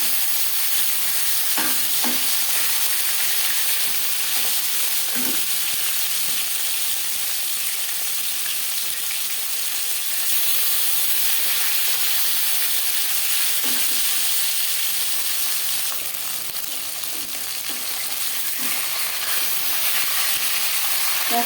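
Pieces of fish frying in hot oil in a wok for a fish curry with potato and green banana, giving a steady loud sizzle throughout with occasional stirring clicks and no talking.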